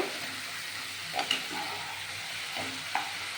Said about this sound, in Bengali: এই আদা জিরে লঙ্কা দিয়ে আর ধনে দিয়ে এটা কষানো হচ্ছে